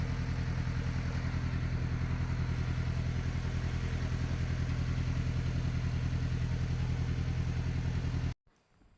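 A motorbike or scooter engine runs steadily and close as it rides off a ferry near Gokarna, a constant mid-pitched putter with rattle that cuts off abruptly just before the end.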